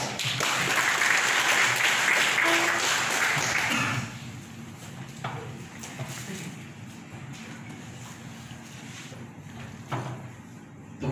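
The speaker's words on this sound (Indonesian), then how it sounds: "Tepuk tangan untuk kita semua." An audience at a capacity-building session for village heads in Sambas Regency breaks into loud, dense applause for about four seconds, then it fades to scattered taps and room noise.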